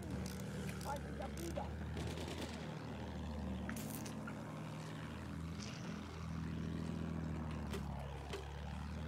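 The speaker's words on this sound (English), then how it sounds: "Attack plane over D." An attack plane's propeller drones overhead in the video game Battlefield 1, a steady rumbling hum that swells and shifts as it passes, set among mechanical clatter and distant battle noise.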